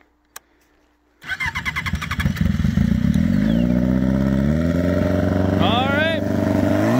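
Sputtery small motorbike engine kicking into life after a click, chugging unevenly at first and then revving up and down to a steady, loud, close rasp.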